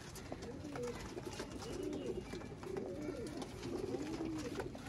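Sialkoti pigeons coo in soft repeated phrases, several calls in a loose rhythm, faint and fairly close, over a low background hum.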